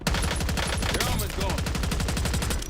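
Rapid automatic gunfire in a first-person shooter video game, dense repeated bursts of shots close and loud for a few seconds.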